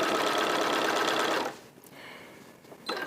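A sewing machine stitches folded honey bun fabric strips for a hat, running in a loud steady whir for about a second and a half, then stopping, with a short burst of stitching again at the end.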